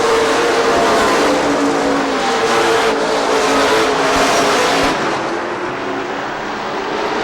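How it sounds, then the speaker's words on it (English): Stock cars roar around Rockford Speedway just after the green flag, a dense, loud, continuous engine drone with passing surges and revving that carries steadily, without a break, to the end. "Oh, here they come, green flag, and we're racing."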